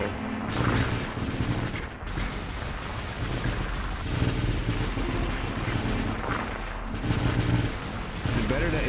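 Ship gunfire in the space roguelike video game Nova Drift, dense rapid bursts of shots and booming explosions crackling continuously, loud and busy, with a voice talking over it.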